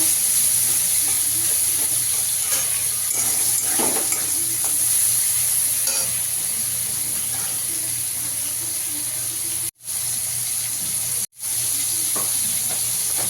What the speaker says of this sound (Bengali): এবার এই তেলেতে আমি চিংড়ি মাছটা ভেজে নেব